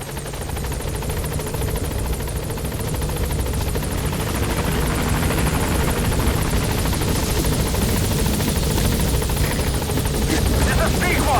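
The B-Quad helicopter from the video game Metal Gear Solid V arriving at a landing zone, a loud continuous rotor roar that builds slightly, with a radio voice speaking over it.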